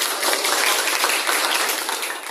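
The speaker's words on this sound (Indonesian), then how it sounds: "Oke, beri aplaus." A class of students applauding, with dense, steady clapping from many hands throughout.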